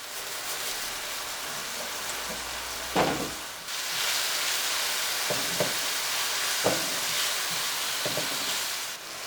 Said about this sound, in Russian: Огонь большой. Прожариваем лучок со всех сторон.